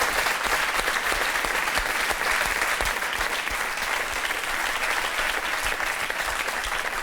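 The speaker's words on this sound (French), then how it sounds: "Alors, évidemment, vous pouvez l'applaudir." A studio audience at a television talk show claps in steady, dense applause that lasts throughout at an even loudness.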